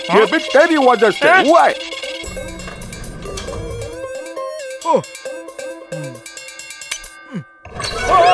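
A cartoon telephone rings in a kids' animated show, bright bell-like ringing tones that sound through the middle of the scene alongside musical stings, with a character speaking before and after.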